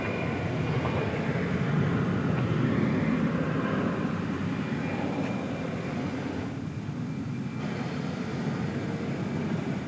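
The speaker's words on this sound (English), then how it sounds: "There goes the flight to Monterrey." An airliner departs DFW Airport at night on a flight to Monterrey, its jet engines producing a steady, loud, broadband roar that holds throughout.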